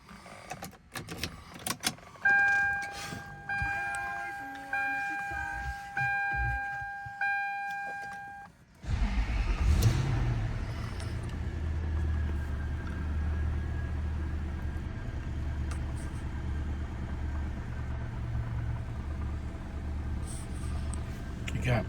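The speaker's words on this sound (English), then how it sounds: "Now let's go for a test drive." A 2000 Toyota Land Cruiser sets off on a test drive, with a steady low engine and road rumble filling the cabin after some door, key and beep sounds at the start.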